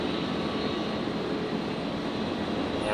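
Virgin Australia aircraft at Brisbane Airport, a steady loud jet engine roar that stays even and unbroken, with no voices over it.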